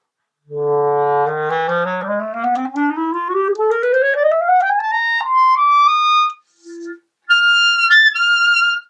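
A clarinet glides smoothly upward through its range in one long rising run, then plays a few high notes, ending with a squeaky harmonic upper tone.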